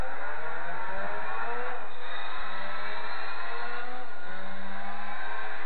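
Mazda rotary-engine car in the Gran Turismo 4 video game, a high buzzing engine note climbing and dropping through gear changes, steady and close, heard alone.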